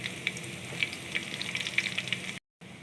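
Chopped garlic frying in hot oil gives a steady close sizzle with scattered small pops and crackles, then a brief drop to silence before the frying resumes.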